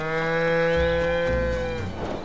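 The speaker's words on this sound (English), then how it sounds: "Pastures are great, huh? They've got so many cows." Cattle mooing in a pasture in Zelda: Tears of the Kingdom, a single long, loud, drawn-out moo close by with a rising and falling tone, heard alone with no talk.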